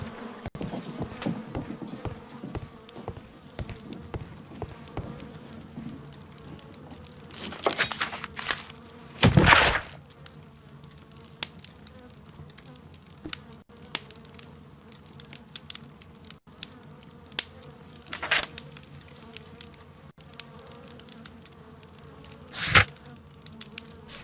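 In the Sherlock Holmes video game, bees hum at a low, steady level over a long stretch, broken by a few louder bursts and sharp clicks, with no voices.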